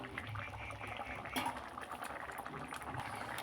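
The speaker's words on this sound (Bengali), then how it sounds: "একটু গরম মশলা দিয়ে আমি দু মিনিটের মতো ফুটিয়ে নেব" A banana flower curry with lentils and garam masala simmers in a pan, giving a soft, continuous bubbling and gentle popping at low volume, steady for a few seconds.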